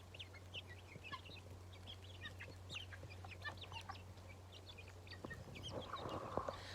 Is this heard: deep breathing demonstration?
no